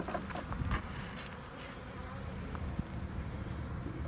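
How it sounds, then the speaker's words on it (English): Honey bees swarm and buzz in an opened backyard hive during an inspection for brood. A dense, steady drone fills the air, and faint handling noises sit beneath it. "These bees have been hating themselves today"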